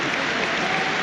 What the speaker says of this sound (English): the applause in the background is in memory of Newcastle supporter David Harrison, warmly applauded here at St James's Park